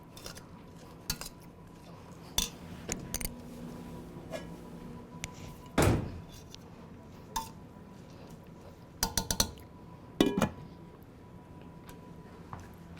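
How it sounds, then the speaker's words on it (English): A metal lid goes onto a pot of creamy cabbage cooking on the stove. Scattered light clinks and clanks of cookware ring out, with one louder clatter midway, in a quiet kitchen. "Let me get a lid for this. We're going to cover it for about 4 minutes."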